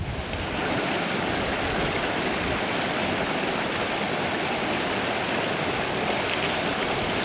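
River water pours and rushes steadily through a stretch of river, a loud, continuous broadband wash with no talk, holding evenly from start to finish.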